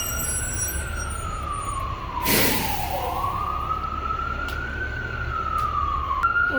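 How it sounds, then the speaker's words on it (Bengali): An ambulance siren wails steadily, its pitch slowly rising and falling as it passes nearby over road noise, with a brief rushing burst midway. "যে শব্দ হচ্ছে ওটা হচ্ছে একটা এই যে আমাদের এই পাশে আসতেছে এটা হলো একটা অ্যাম্বুলেন্স"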